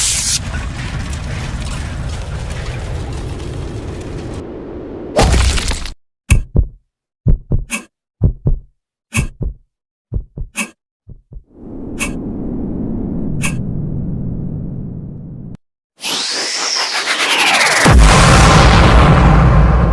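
Redesigned anime explosion for the Hunter x Hunter fight between Netero and the Ant King: a deep rumbling blast gives way to sharp rhythmic pops and cracks, a swelling roar, a brief silence, then a massive booming detonation.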